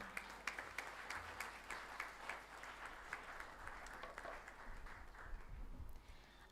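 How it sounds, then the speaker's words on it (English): An audience at a lecture applauds for a judge, a steady, faint patter of many hands clapping that continues for several seconds before tapering off. "A huge round of applause for Ma'am."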